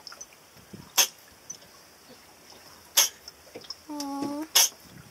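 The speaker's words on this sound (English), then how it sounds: "Have you ever heard a turtle sneeze?" A turtle sneezes three times, short sharp bursts spaced a second or two apart and close to the microphone in a quiet setting, with a brief squeaky tonal sound between the last two.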